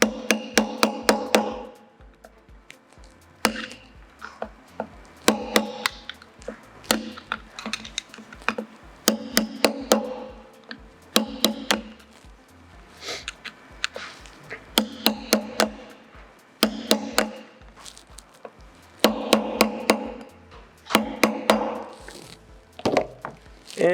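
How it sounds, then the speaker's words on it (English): Sharp metal taps land in quick clusters as lock tabs are knocked down on motorcycle sprocket bolts for an SG250 rear wheel, with short bursts repeating throughout and brief pauses between. "simply gonna tap down the lock tabs."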